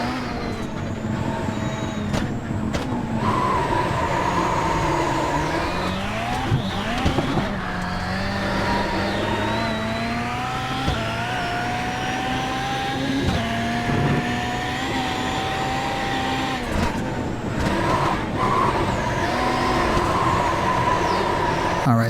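Volkswagen race car in the iRacing simulator, its engine droning steadily with rising and falling pitch through gear changes, loud and continuous for over twenty seconds with no talking.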